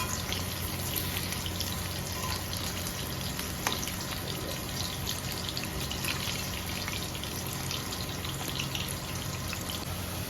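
Potatoes fry in a pan with a dense, continuous crackling sizzle that holds steady throughout, no voices over it.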